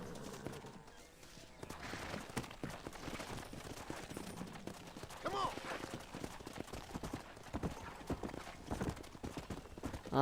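Horse hooves clip-clopping in a steady galloping rhythm in the Red Dead Redemption video game, close and continuous with game ambience, while people talk over it.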